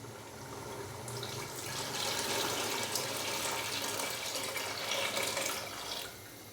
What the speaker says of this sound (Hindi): तो उसी हिसाब से ही मैं इसके अंदर पानी डालूंगा